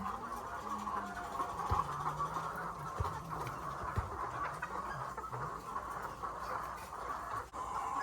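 Laying hens cluck and murmur steadily inside a poultry house, with a constant background hum and occasional sharper calls standing out.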